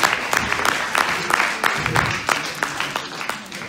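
An audience at a stage hypnosis show applauds, with distinct, separate claps in an uneven rhythm, fairly close, while voices murmur underneath.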